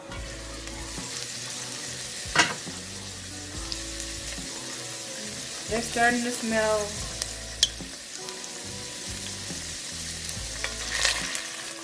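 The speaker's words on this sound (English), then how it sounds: "Oh, they're sizzling. They're popping." Chickpeas sizzle steadily in a hot pan with stirring scrapes and a few sharp pops; a voice speaks briefly over the frying.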